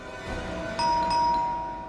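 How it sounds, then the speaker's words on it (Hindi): A doorbell chimes twice in a home, two bright ding-dong tones sounding over low room noise, fairly close and moderately loud, with no one speaking. "आज तो लगता है घंटी खराब करके छोड़ेंगे"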